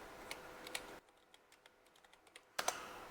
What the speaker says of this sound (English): type in our password